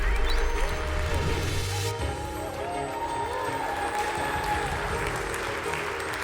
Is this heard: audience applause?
yes